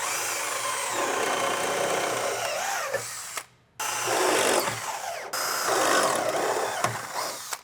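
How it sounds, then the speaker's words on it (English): Close power drill whining steadily through metal drilling pilot holes in a Tacoma truck bed, in long bursts, briefly stopping twice before spinning up again. "we have some pilot holes drilled there"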